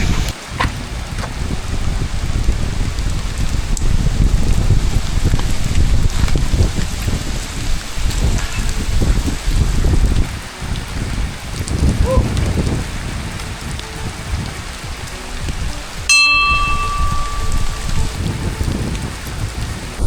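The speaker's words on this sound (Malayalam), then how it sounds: "ലെൻസ് ക്ലിയർ ആവുന്നില്ല, അത്രയ്ക്കും മഴയാണ്" Heavy rain pours steadily and loudly on a misty hilltop in Kerala, a dense constant roar of drops with a brief electronic chirp near the end.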